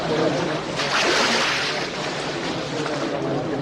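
A boat rocks on open water as waves wash and wind blows across the microphone, a dense, steady rushing swell at close range with no clear talking.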